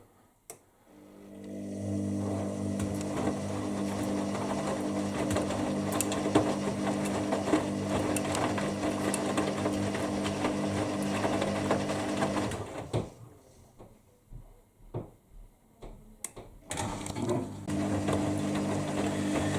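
Hoover Dynamic Next DXOC58AC3/1-80 washing machine on a rapid 44-minute 40°C cycle during final rinse, a steady close mechanical motor hum and drum churning with soft clicks, a brief lull, then the drone resuming.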